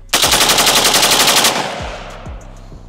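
An American-made M27 IAR rifle fires one loud, rapid full-auto burst of roughly a dozen shots lasting about a second and a half. It is followed by a rolling echo and a few faint distant reports.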